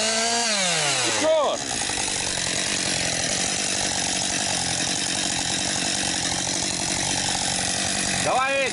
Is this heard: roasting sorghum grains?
no